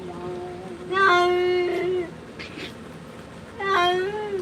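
Drawn-out meows from a Maine Coon cat being bathed, two long wailing cries separated by a short pause, close and clear over faint splashing.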